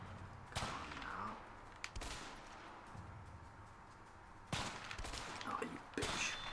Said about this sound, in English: I don't think you can shoot him from this distance